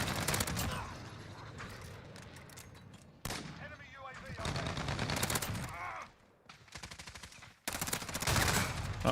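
Dense bursts of gunfire and shotgun blasts from a video game battle, loud and continuous with brief gaps, layered with rapid mechanical clatter.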